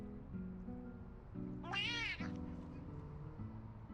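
A cat meows once in a drawn-out, rising and falling call, clear and fairly close, over steady background sound from an Overwatch 2 game with a voice talking.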